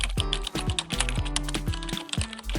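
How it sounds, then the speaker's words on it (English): Rapid, clattery keystrokes on a computer keyboard as a short search term is entered, close and crisp with no talking. "open the indicator search bar and type in QQE mod"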